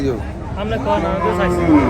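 Beef cattle and bullocks at the Chandimura livestock market in Cumilla give a low, drawn-out moo, close by, amid people talking.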